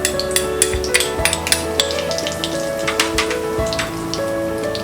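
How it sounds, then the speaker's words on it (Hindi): Cumin seeds and asafoetida sizzling in hot oil for a cauliflower and pea curry, a dense crackling sizzle like light rain, close, with a few spoon taps against the pan and no talk. "तेल गरम हो गया है। अब हम इसमें डालेंगे ये जीरा, हींग"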